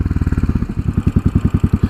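A 2017 Royal Enfield Continental GT, Euro 4 ABS model, sits in neutral with its stand down while its single-cylinder engine idles, giving a steady, rapid low thumping pulse, close and even, with no voices over it.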